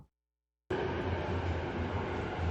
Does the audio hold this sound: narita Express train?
yes